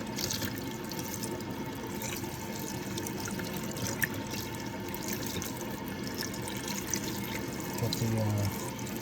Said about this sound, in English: Run some water, cool water, and just start rinsing it.